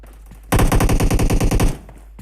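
Rapid automatic gunfire bursts from a video game esports match, a loud close volley of evenly spaced shots lasting just over a second before cutting off.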